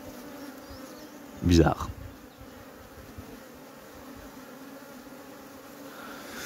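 Honeybees buzz at a hive being inspected, a short loud burst of buzzing from a bee passing close, then a steady faint hum of the colony, with a brief spoken word.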